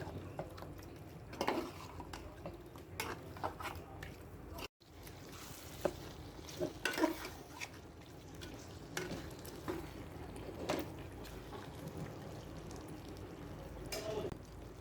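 Beef from Eid sacrifice meat for Chittagong-style kala bhuna being stirred and mixed in a cooking pot, with scattered spoon scrapes and clinks over a low, steady background of cooking noise, no talking.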